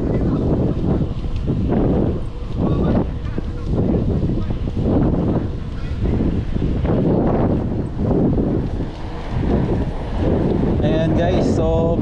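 Wind roars across the microphone during a night bicycle ride in Singapore, a loud continuous rush with rhythmic gusting swells, and a voice speaks faintly underneath.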